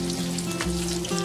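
Fish fries in a pan of oil with a brief, close sizzle and a faint steady hum underneath.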